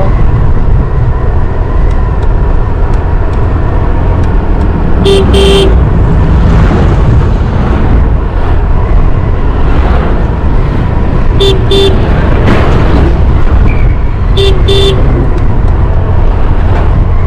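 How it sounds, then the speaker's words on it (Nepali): On the East West Highway in Madhesh Province, Nepal, constant road roar and wind rush past a motorbike as cars and bikes go by, with several short horn toots scattered throughout. "अब यसरी गाडीहरू पेलेर आउँछन्"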